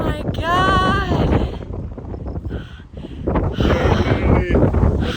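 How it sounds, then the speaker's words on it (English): Strong wind on a mountaintop in Galicia buffets the microphone with a deep, gusting rumble, rising and falling, while a voice is briefly heard under the roar. "it's so windy and it's so cold because of the wind"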